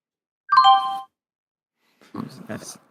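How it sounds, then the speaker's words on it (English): An MSN Messenger notification chime rings once, a short bright tonal jingle heard clearly in silence, followed a second later by a person talking. "Is that the MSN noise?"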